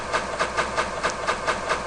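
A train running in a Minecraft map, a steady rhythmic clickety-clack of wheels repeating about every quarter second, even and continuous, with no talk.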